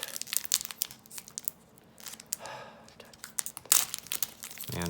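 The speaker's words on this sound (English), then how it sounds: "I'm going to have nightmares for weeks because of opening wrappers." Crinkly plastic candy wrappers being unwrapped and torn open, giving close, bursty crinkling and tearing with a few louder rustles and pauses between handlings.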